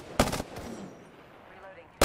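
Gunfire in a battle royale game: a tight, loud burst of rapid shots, then quieter low noise, and another sharp burst cutting in at the end.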